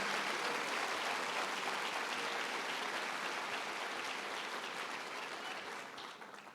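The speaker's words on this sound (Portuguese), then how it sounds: "aplauda o Senhor Jesus." A church congregation applauds during an evening service, a dense, continuous roar of clapping that holds steady and fades slightly toward the end, heard alone without talk.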